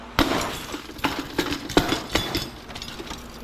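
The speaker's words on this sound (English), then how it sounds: "The fastest way I found to do these is just smash them down on the rod." Old light fixtures are smashed down onto a metal rod clamped in a vise while scrapping them for copper, producing a series of sharp, close crashing impacts with glassy clinks and metallic rattles at irregular intervals.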